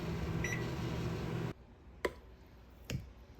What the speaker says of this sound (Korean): 전자레인지에 4분 돌렸습니다